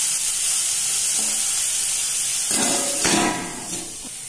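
Capsicum and mixed vegetables cooking in a covered pan over low gas, giving a steady, close sizzling hiss that briefly swells with a stir or lid movement before settling slightly quieter.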